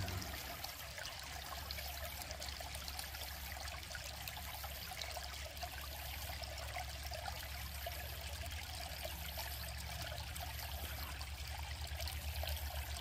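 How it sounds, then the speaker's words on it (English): Water running through a gold prospecting sluice box in an Indiana stream, a steady, gentle trickling flow heard alone and close for the whole stretch. "Nice relaxing sound of the water. Watching it flow through there."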